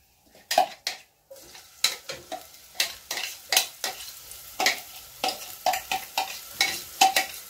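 Food browning in a frying pan, with a run of sharp scraping and clinking utensil strokes against the pan over a soft background sizzle, close and fairly loud, no voices.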